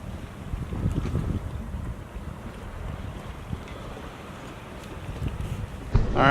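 A Dana 24 sailboat motors out from its mooring on a windless morning. A low, steady engine rumble sits under water wash and microphone wind noise, with a sharp knock near the end.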